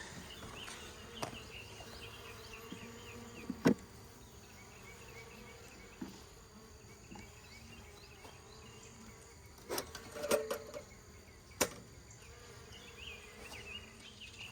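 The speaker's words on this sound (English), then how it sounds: "Had an unhappy bee come at me." Honeybees buzz around a hive frame fitted with new foundation during comb repair, a continuous insect drone with irregular louder passes close by, punctuated by occasional clicks and knocks.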